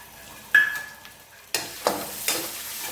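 Finely chopped ginger and garlic fry in hot oil with cumin, sizzling in sharp bursts each time they are stirred, then hissing softly between stirs, close and clear without talk.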